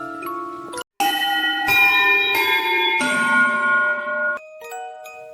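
A bright chime-like notification bell rings in a sequence of sustained, overlapping tones, loud and close, with a brief gap near the start and fading lighter tinkles at the end, with no voices.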